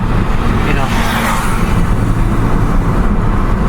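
Morning road traffic in Ampang heading to Cochrane, with cars and motorcycles, gives a constant loud engine and tyre rumble, heard close through an open vehicle window, with a swell of passing noise partway through.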